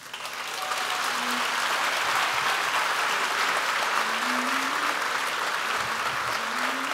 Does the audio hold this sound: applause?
yes